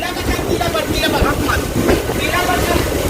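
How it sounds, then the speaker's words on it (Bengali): Local train running from Howrah toward Sealdah, a loud, close, continuous rumble with rhythmic clattering of wheels over the rails and rattling carriage noise throughout. "অবশেষে আমাদের ট্রেন হাওড়া রেলস্টেশন থেকে ঠিক তার নির্দিষ্ট টাইমেই ছেড়ে দিয়েছে"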